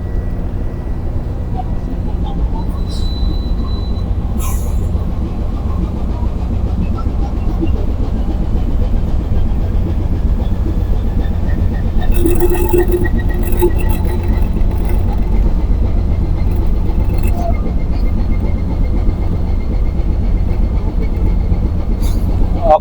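A boat's engine runs dead slow astern, a loud steady low rumble that holds unchanged throughout, while voices speak faintly over it now and then.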